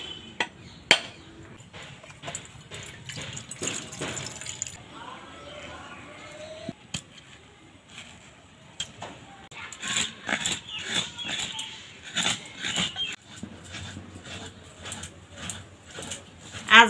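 A coconut being cracked open, with a scattered series of sharp knocks and taps, some louder hits near the end, close and fairly quiet against a soft room background.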